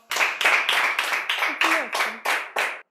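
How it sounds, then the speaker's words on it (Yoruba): A crowd claps in nine distinct bursts at a steady rhythm, each surge sharp and close, with a short voice rising briefly under the middle bursts, during a Yoruba drama film scene. "Ẹ fún ní àtẹ́wọ́"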